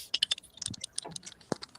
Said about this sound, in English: Sounds like somebody with a real light touch on the keyboard,